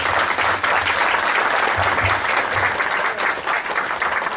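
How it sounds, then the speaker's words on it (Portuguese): A live audience claps loudly and steadily for several seconds, a thick crowd-wide applause with no pause and no talk over it. "eu só vos quero pedir um aplauso para duas pessoas"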